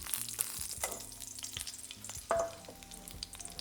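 Garlic fries in a pan for a restaurant-style bhindi bhajee, a soft, close sizzle with light stirring scrapes and a slightly louder crackle partway through.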